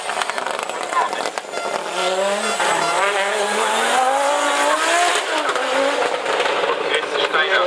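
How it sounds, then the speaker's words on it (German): A powerful touring car launches at the start of the 2016 Wolfsfeld hill climb, its engine screaming loud and close as revs climb steadily through the gears, with a commentator talking over it. "Das ist ja eines der stärksten Autos, die wir im Tourenwagenbereich, im Tourenwagensektor momentan haben."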